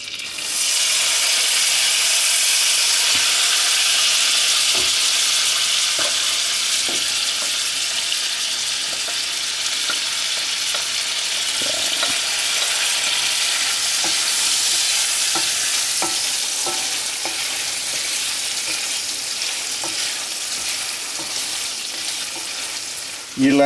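Drained carrots cooking in a brown sugar and butter mix in a pan, a continuous loud sizzle with occasional stirring clicks and scrapes throughout, no voices.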